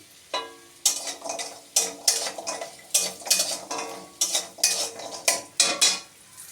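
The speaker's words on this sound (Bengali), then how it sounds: "আমি আগে বড়িটা ভেজে নেব।" Lentil bori frying in a pan, with a rhythmic series of metal spatula scrapes and clacks against the pan at roughly half-second intervals over a soft sizzle, close and without talk.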